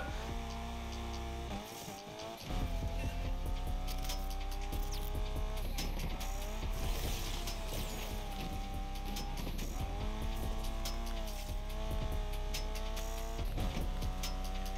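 A car drifts in the racing video game Need For Speed Unbound: a loud, rising and falling engine roar with gear shifts, laced with screeching tire squeal through the slides. No one talks over it.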